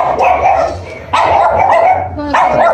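A dog barks at a chicken delivery, three sharp, loud bark bursts close by with yips and whimpering between them.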